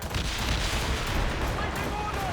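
Ship cannons in Assassin's Creed Rogue boom in a dense, continuous roar of heavy fire during a naval battle, with voices shouting faintly beneath it.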